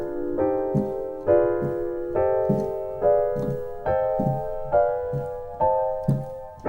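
A minor 6th diminished scale plays as a steady run of single notes with an instrument tone, each note attacking cleanly and ringing briefly before the next, in an even unaccompanied rhythm.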